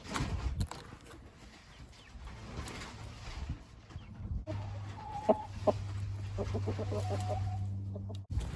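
Backyard laying hens clucking, a few close, short calls breaking out over a steady low hum, with scattered bird chatter across the flock.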